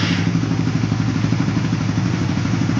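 A Suzuki Raider 150 Fi motorcycle warms up from a cold engine, its steady, close idle rumbling evenly and loudly throughout.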